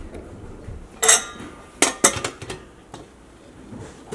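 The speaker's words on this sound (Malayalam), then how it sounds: "ഇനി നമുക്ക് കുക്കർ അടച്ചു വയ്ക്കാം." A pressure cooker lid is shut over broken wheat upma in a home kitchen, giving a few close, sharp metallic clinks and clatters spread over a few seconds.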